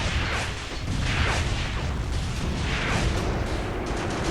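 Heavy artillery and gunfire in the tank combat game Tank Warfare: Tunisia 1943, heard as a dense, loud, rumbling barrage of overlapping booms and blasts that continues without a break.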